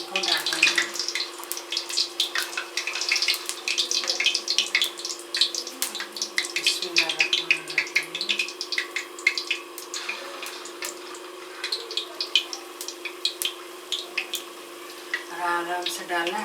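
Chicken kofta sizzles in hot oil as it is dropped into the pan, producing a dense, crackling spatter of sharp pops with a low electrical hum underneath, continuous and fairly close.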